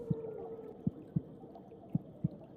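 Blue whale song in the ocean: a faint, low moaning tone with five soft, deep pulses at uneven intervals.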